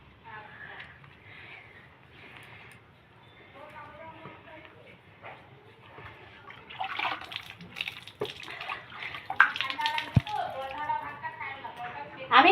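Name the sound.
water poured onto leftover rice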